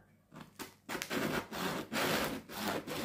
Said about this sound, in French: j'adore ce bruit de pain qui craque